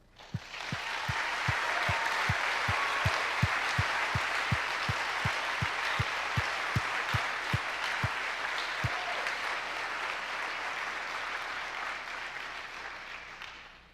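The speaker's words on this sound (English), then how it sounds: "I think we owe them a huge applause" Sustained audience applause for a group of artists and their curator at a live magazine event, a dense steady wash of many hands clapping close by for about fourteen seconds, with sharp rhythmic accented claps running through the first two-thirds.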